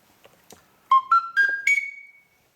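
Sicilian friscaletto, a cane whistle flute in C that has been toasted over fire, plays four rising clear notes, the last one held briefly, bright and close, after a few soft clicks, with no talking.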